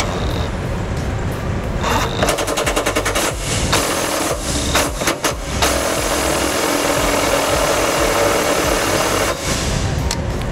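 A power tool with a 15 mm socket drives bolts into a Ford Transit during trailer hitch installation, heard as short bursts of rapid rattling clatter over a steady engine-like hum, moderately loud.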